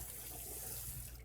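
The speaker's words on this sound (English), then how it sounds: "we're going to put some cold water in there" Cold tap water runs steadily into a kitchen sink to rinse chickpeas, a continuous close splashing hiss that tapers off at the very end.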